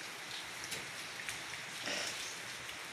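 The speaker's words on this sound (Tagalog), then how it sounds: "Magandang umagang umuulan. Kanina pa umuulan." Steady rain falling and pattering on a surface, a constant close hiss with scattered louder drops and no voices.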